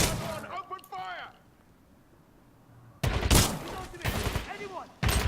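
Bursts of gunfire in the video game Titanfall 2, with loud, dense volleys that break out after a quieter stretch, mixed with voices and radio chatter from the game.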